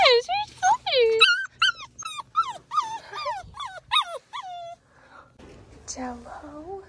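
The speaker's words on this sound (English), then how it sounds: "Look, there's puppies at the barn." Puppies whimper and yelp at a horse barn in a rapid string of high, wavering cries close by. The cries fade into quieter rustling near the end.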